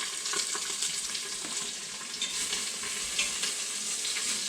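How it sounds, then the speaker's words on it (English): Onions sauteing in leftover venison grease, a dense, even sizzle heard close and continuous, with light stirring scrapes now and then and no talking. "I'm going to just saute them up just a little bit with the leftover"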